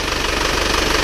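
An Isuzu Panther diesel engine from Tulungagung, running cold with low compression and thick smoke, clatters loudly and close in a steady rapid knocking idle.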